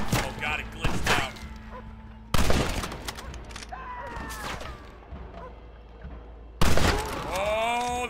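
Sniper rifle gunfire in Red Dead Redemption on Xbox: three loud, sharp shots spaced several seconds apart, each ringing out over a voice talking between them.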